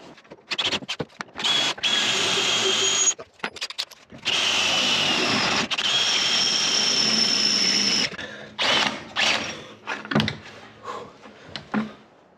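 A power drill bores into wood for an elevator build, running in long loud whining bursts close by, pausing and restarting, then ending in shorter choppy pulses.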